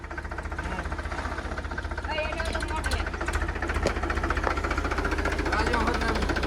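A tractor engine running nearby, a low steady throbbing idle with knocking pulses that grows slightly louder, with voices talking over it.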